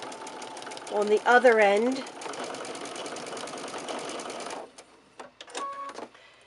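A domestic sewing machine runs a quarter-inch quilt seam with pretty sides of the fabric together, a steady mechanical whirr of rapid stitching that stops abruptly, followed by a few clicks while someone talks over it.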